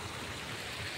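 Flood water pours over a small village check dam near Talasari, a steady rushing, gurgling flow that stays constant and fairly loud for the whole short moment, with no voices.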